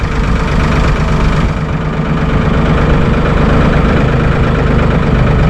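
Massey Ferguson 1835E hydrostatic compact tractor idling close by with a steady, loud diesel rumble and slight knock while the front loader raises, the tone holding even throughout.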